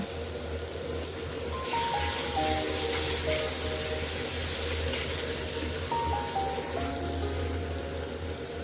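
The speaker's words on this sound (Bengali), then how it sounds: "আমার রসুন দিয়ে সুন্দরভাবে মশলাটা কষিয়ে নেওয়া হয়ে গেছে" Spice paste with garlic sizzling in a pan while cooking shrimp bhuna, a steady crackling hiss that swells louder midway, with faint clinks of a utensil scraping the pan.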